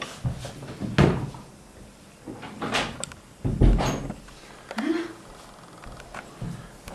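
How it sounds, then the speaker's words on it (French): A kitchen door in a Paris home is pushed shut, giving a few thumps and knocks spread through the clip while people talk nearby. "On va fermer la porte de la cuisine."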